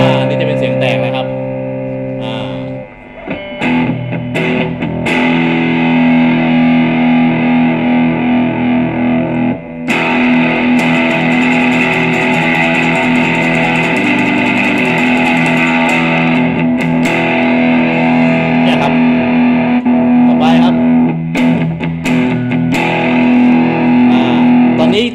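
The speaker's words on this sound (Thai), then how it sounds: "นี่จะเป็นเสียงแตกนะครับ" Electric guitar played through a JOYO DC15 practice amp on its distortion channel, a loud, sustained overdriven tone with strummed chords and ringing notes that runs nearly unbroken, with a short dip early on.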